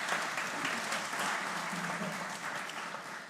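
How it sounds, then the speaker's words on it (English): A conference room audience at a DevOps gathering applauds a winner, with continuous mid-distance clapping that holds steady and tapers slightly toward the end. "Give him a round of applause."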